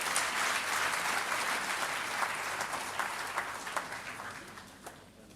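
Audience at a book launch applauding, a full, steady round of clapping from many hands that gradually thins toward the end, with no speech over it.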